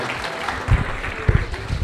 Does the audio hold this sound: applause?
yes